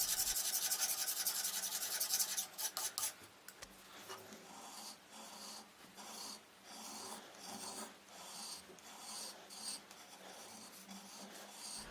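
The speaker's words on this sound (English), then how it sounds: "which can be easily scraped off without damaging the wood underneath. I normally use this piece of spring steel" A spring steel scraper scraping gummy residue off a wooden gun stock, close and quiet, in short rasping strokes with pauses between them and a denser burst of scraping at the start.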